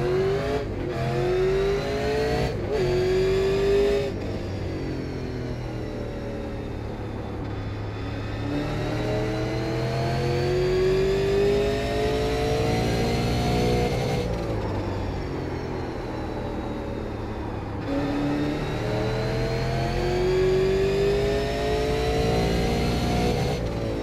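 Super Late Model race car engine running laps at Martinsville in the iRacing simulator, a loud continuous rising and falling drone of revving, accelerating and backing off through the corners, heard alone with no talking.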